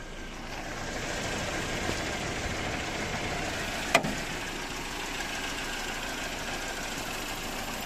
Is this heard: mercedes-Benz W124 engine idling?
yes